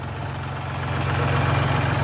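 A Kubota L3901 38-horsepower tractor engine idles steadily nearby, a low, even diesel rumble with a faint rhythmic knock that grows slightly louder toward the end, with no talking.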